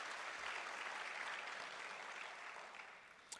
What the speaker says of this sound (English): And I thought you would clap for yourselves as Africans.